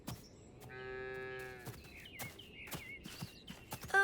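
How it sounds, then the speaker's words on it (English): A cartoon cow lets out one long, drawn-out moo, followed by light clopping steps and small animated sound effects in a quiet scene. "it's an enormous cow"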